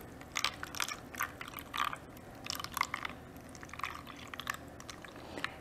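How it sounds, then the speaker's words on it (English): Water is poured into small containers to make ice paint, a soft, irregular trickling and splashing that runs for several seconds at low level with no talk over it. "Now we're going to add in the water, and we're just going to fill it up."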